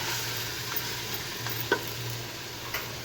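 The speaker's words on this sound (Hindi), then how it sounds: "बीफ को इतना भून लेंगे हम, इसका कलर चेंज हो जाए।" Beef frying in a pot for a traditional Pakistani shahi gosht gobhi, stirred with a spoon: a steady close sizzle with a few soft scrapes and clinks of the spoon, no voices.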